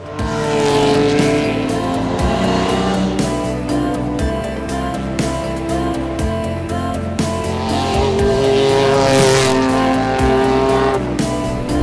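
A rally car on a special stage of the Tour Auto Optic 2000 drives with a steady, loud engine roar that rises and falls through gear changes, heard continuously without any voices.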